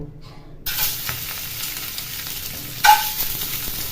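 Eggs drop into a hot pan of mustard oil: after a quiet start, a sudden hissing sizzle erupts and holds steady, flaring again briefly in a louder burst partway through.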